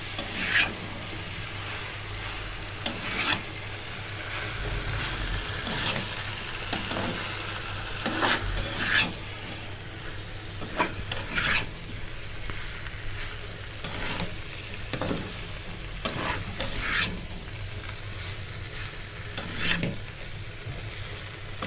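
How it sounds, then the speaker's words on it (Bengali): Egg, potato and cauliflower curry vegetables being stirred and fried in a pan, with a steady sizzle and repeated scraping strokes of a spoon throughout. "ভালো করে কিন্তু কষিয়ে নাড়াচাড়া করতে হবে।"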